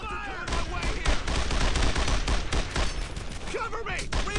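Heavy, dense gunfire in the WWII video game Brothers In Arms: Earned In Blood, overlapping rifle and machine-gun shots in a constant close barrage, with soldiers' voices shouting beneath it.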